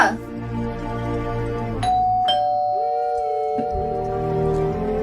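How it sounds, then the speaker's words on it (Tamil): A household doorbell sounds its two-tone ding-dong chime a couple of times, with ringing tones that sustain and fade, heard near and clear inside a home amid faint background noise. "ஓ, யாரா காலிங் பெல் அடிக்கிறாங்க, யாருன்னு பாரு."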